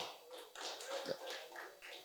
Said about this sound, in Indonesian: Tepuk tangan buat Aki Masif Thunder.